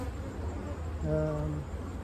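Agitated honeybees buzz at an opened hive during an inspection, a faint steady hum with a low droning undertone and one bee's tone rising briefly nearby.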